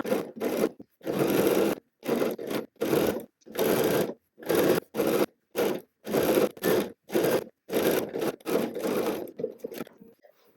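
Sewing machine understitching the neckline facing of a Cashmerette Hampden dress, running in many short, rhythmic bursts separated by brief stops, close and loud.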